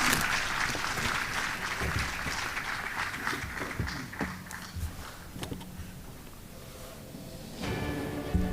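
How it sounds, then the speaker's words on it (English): Conference audience at a dental meeting in Seoul gives a round of applause that fades after several seconds, leaving scattered claps and light shuffling in a large hall. "Please give Dr. Haini a warm round of applause."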